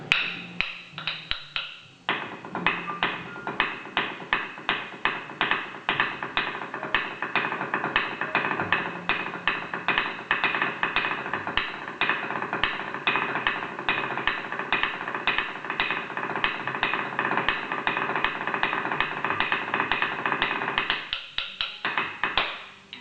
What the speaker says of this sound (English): the post-accent note is going to be rolled.